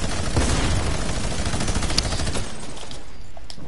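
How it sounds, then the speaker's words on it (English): Rapid bursts of gunfire in Fortnite crackle continuously, dense and sharp, with scattered louder shots fading slightly toward the end. "all I can hear right now is gunshots"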